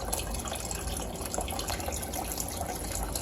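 Water runs and trickles steadily into an aquaponics tank, a quiet, even gushing flow that carries on without pause and with no voices.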